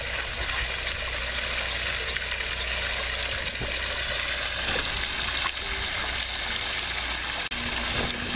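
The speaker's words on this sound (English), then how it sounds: "The flapper valve will remain open until the water chamber completely drains." Water rushes and gurgles steadily as an aquaponics grow tower's water chamber drains through an open flapper valve, a continuous broad flow close by, with a brief knock near the end.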